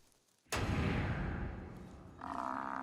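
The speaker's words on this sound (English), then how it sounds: "The naive youngsters have already picked up the irresistible sound of a lion hunt." Lions roaring during a hunt in the African wild: a sudden loud, deep roar bursts in and rumbles on, tailing off before a second rougher growl rises near the end.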